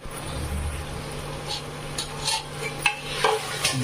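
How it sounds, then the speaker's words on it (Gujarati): Tomatoes and chillies fry in a pan while a spoon stirs them, giving soft scraping and light clinks over a low continuous sizzle, close and moderately quiet, with a steady hum underneath. "હવે નાખી દીધા ટમેટા ને મરચા, આને હરખી રીતે હલાવવાનું."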